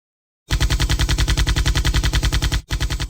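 Rapid machine gun fire in an animated post-apocalyptic monster battle, a loud, continuous burst of evenly spaced shots with a brief break near the end before it resumes.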